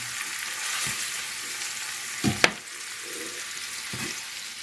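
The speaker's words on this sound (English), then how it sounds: "I'm just breaking up the meat into little pieces, bite size, using the spatula." Ground meat sizzles steadily in a pan while a spatula breaks it up, the constant close frying hiss broken by a few scraping strokes and one sharp knock against the pan.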